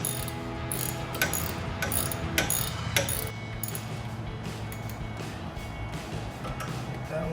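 A hand ratchet clicks in quick bursts while tightening bolts during a front leveling kit install on a RAM 2500 truck, sharp metallic pawl ticks over a low background hum, fairly close.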